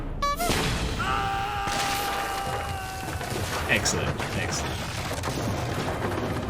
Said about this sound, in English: firing the boss from the cannon